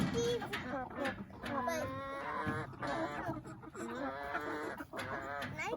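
Backyard chickens on a homestead cluck and squawk in a dense, overlapping chorus close by, steady throughout, with people talking over them.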